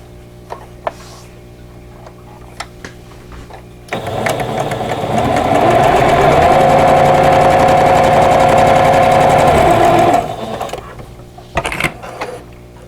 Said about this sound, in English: So we're going to sew them this direction this time.